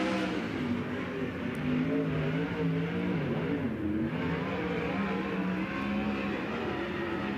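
A sprint car roars down the back straight and through turns 3 and 4 at the Tulare Thunderbowl Raceway dirt oval, its engine a dense, continuous high-revving drone with wavering pitch under steady crowd and track noise.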